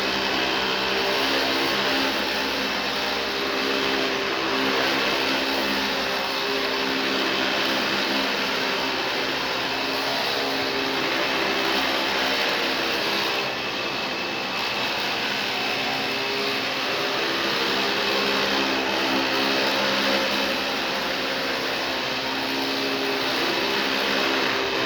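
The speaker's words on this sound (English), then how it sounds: "Now wait till you hear the brush roll on this thing. It is aggressive." A household vacuum cleaner with an aggressive brush roll runs continuously and loudly up close, a steady motor whine layered with a dense, churning whir that holds without pause.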